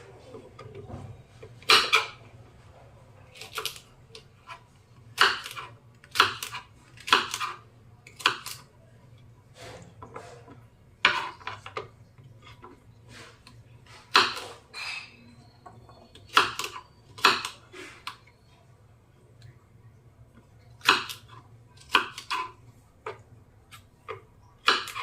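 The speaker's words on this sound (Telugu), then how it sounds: "ఇక్కడ బెండకాయలు కట్ చేసుకుంటున్నాను" Tender okra cut with a knife on a board in a home kitchen, a series of sharp, irregular chopping taps spread through the stretch, close and fairly crisp, with faint background hum and no talk.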